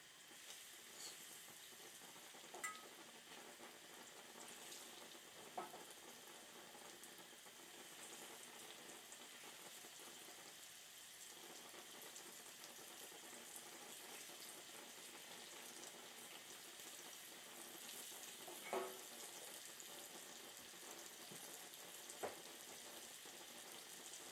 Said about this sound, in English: So now the oil is bubbling. I'm going to add my chicken to this.